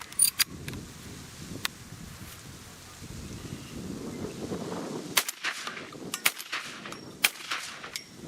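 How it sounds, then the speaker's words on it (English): A 20 gauge shotgun is fired outdoors. A few sharp, separate reports are spaced across the stretch, with wind rumbling against the microphone in between. "That's a soft shooting gun."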